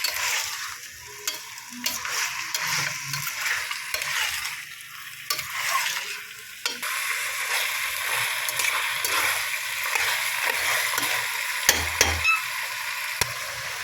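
Onions and spices for chicken biryani being stirred in a pot, a spoon scraping and turning the mixture amid continuous oil sizzle, with a brighter, steadier frying hiss in the second half.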